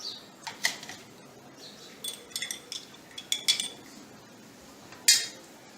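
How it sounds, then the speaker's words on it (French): A spoon stirs a mashed banana and buffer solution mixture in a container, producing irregular light clinks and scrapes against the sides in short bursts, with one sharper knock near the end, quiet and close. "Donc, je vais encore remuer."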